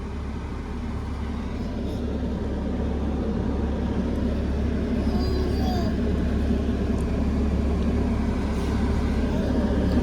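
A car driving steadily, its engine and road rumble forming a continuous low drone close by throughout, with no clear voices over it.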